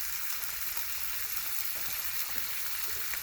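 Bacon sizzling in a cast iron pan on a woodstove in a shed, a steady, close, crackling fry hiss with small pops throughout.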